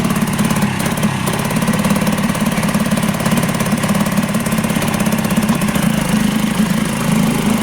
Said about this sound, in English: Put it in gear and let it run.